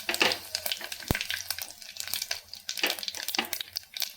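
Mustard seeds, cumin and dried red chillies crackle and spit in hot oil as a tempering for roadside-style sambar, with bursts of sizzle and one sharp pop, heard close and alone.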